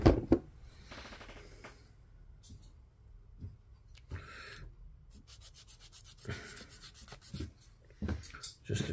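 A sanding stick rubbing plastic parts of an Airfix HMS Belfast model kit, close, dry scratchy strokes in uneven bursts with short pauses and a few sharp handling clicks.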